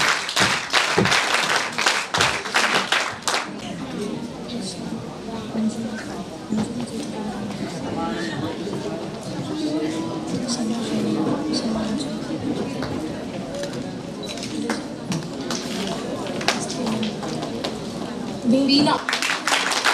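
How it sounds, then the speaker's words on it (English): NCC cadets clapping in unison at an International Women's Day event, a dense burst of loud rhythmic claps at the start, then a room of murmuring voices and talk, with another round of clapping building near the end. "NCC clap शुरू कर"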